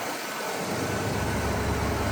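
1967 Cadillac Eldorado with its 429 V8 idling smoothly, heard from the rear of the car as a steady, fairly loud low rumble with no voices.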